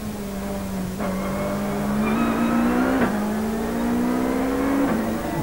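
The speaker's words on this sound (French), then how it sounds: "De Chavannes fait l'intérieur à Kennis pour récupérer son bien." Touring race cars from the 1997 Belgian Procar series scream past at Spa-Francorchamps, a loud sustained engine drone rising in pitch with gear shifts, no voices over it.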